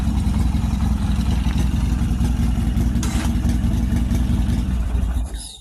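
Motorcycle engine idling with a clacking mechanical noise, a close, loud steady chugging throb with rapid ticking over it, running alone until it fades at the end.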